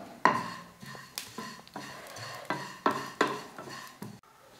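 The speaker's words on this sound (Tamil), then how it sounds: "ஸ்டவ் வந்து குறைச்சி வச்சுட்டு எள் வறுத்துக்கலாம்." Sesame seeds dry-roasting in a pan over a low flame, with a spoon or spatula scraping and tapping against the metal in a loose, irregular series of sharp strokes, close and fairly quiet.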